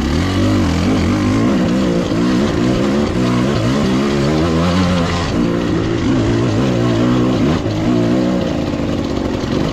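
A KTM 300 off-road motorcycle engine revs hard on the Evans Creek ORV trail, loud and close, its pitch rising and falling continuously as the throttle works.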